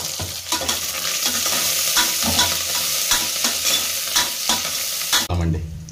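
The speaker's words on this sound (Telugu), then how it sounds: "5 పచ్చిమిరపకాయలు వేసుకుందామండి. ఎండుమిరపకాయలు ఒక 4 వేసుకొని కలుపుకుందాము." Green and dry red chillies fry loudly in a pan while being stirred, a close, continuous sizzle with scraping stirs, ending abruptly.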